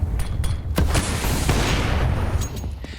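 Thrown grenade and gunfire in a Counter-Strike match at ESL Pro League, Vitality versus Liquid: a burst of sharp, close shots and booming impacts packed into a few seconds, loud and dense with no clear talk.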